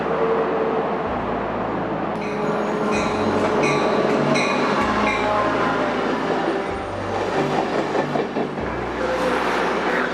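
A train rumbles past steadily and loud, with rhythmic low thumps of wheels over rail joints and high metallic squeals and rattles throughout.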